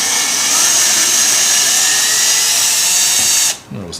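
Ryobi power drill fitted with a screw bit, running as a loud, close, continuous whine for about three and a half seconds before cutting off sharply, followed by a faint rattle.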